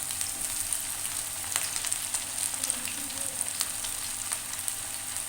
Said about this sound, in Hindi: तवा फ्राई फिश का मतलब ये है कि हम इसे तवे पे फ्राई करते हैं